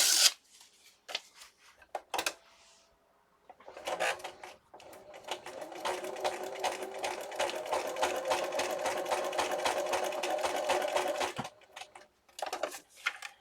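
A sewing machine runs a test seam at a long stitch setting while making a tall, skinny accordion booklet. Handling clicks come first, then a steady, close, rapid mechanical whir that lasts about seven seconds before stopping.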